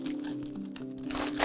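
Colored cellophane-like vinyl sheet, about 90 cm to 1 m wide, crinkles and crunches while being handled for a floral decoration demonstration, a steady close rustle that swells toward the end.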